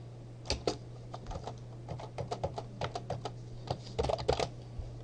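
Computer keyboard typing in an office setting: a steady run of crisp, close key clicks in irregular bursts, alone over a low electrical hum.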